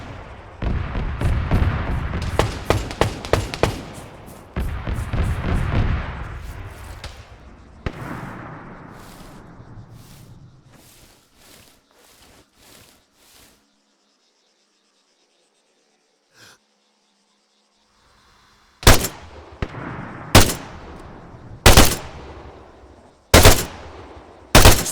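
Rapid bursts of automatic gunfire and rifle shots engaging an MRAP vehicle in the military shooter Arma 3, a dense crackling volley at first that thins into scattered shots, then a pause and a few sharp, loud single shots near the end.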